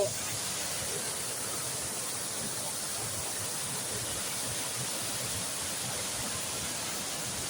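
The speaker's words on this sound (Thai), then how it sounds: "เสียงน้ำตก" Steady broadband rush of Thao To waterfall at a Thai forest tourist site, continuous and fairly distant-sounding, with no talk over it.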